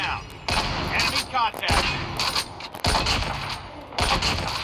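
Video-game sniper rifle gunfire rings out in a burst of several loud, sharp cracks against continuous game noise, with a voice talking over it.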